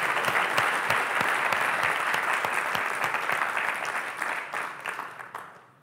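Audience applause welcoming a speaker to the stage at a morning program, a sustained wash of clapping that holds steady and then tapers off toward the end with no talking over it.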